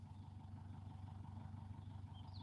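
A farm tractor's engine idles steadily in the background, a low, even rumble that holds without revving, fairly faint and with no talking.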